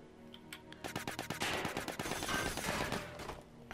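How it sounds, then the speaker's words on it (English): Silenced gunshots in the Silent Storm video game, a quick series of muffled, clipped shots fired in close succession, heard alone over game ambience at moderate loudness. "we do have a silenced gun"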